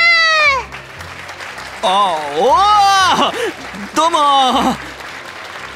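Crowd applause for Mamoru, a helpful pink-team friend, at a children's stage show, running steadily beneath loud, excited voices and exclamations throughout.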